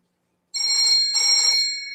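A telephone rings loudly and close, two electronic ring bursts with a short gap between them, alone in an otherwise silent room.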